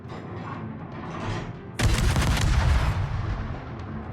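Guns fire in a video game, unleashing a heavy, booming salvo after a quieter stretch, then a long rumbling tail that slowly fades.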